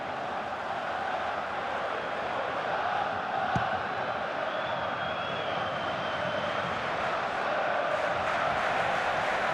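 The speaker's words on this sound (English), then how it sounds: "the crowd's reaction says it all, Clive" A stadium crowd in a football video game reacts to a wasted scoring chance with a broad, sustained roar and murmur that holds at an even level throughout.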